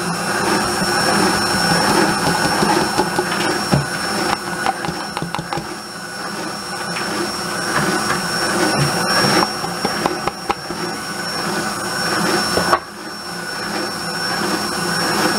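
An electric mixer beats coconut cake batter with a loud, continuous motor whir that holds steady for about fifteen seconds, with slight dips and bumps as the beaters move through the bowl.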